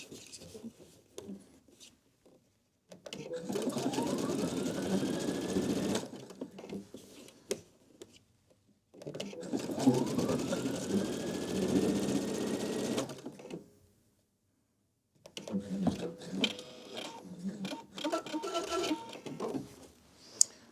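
A sewing machine stitches a three-step zigzag in three separate runs of steady, close whirring, each lasting a few seconds, with quiet pauses in between.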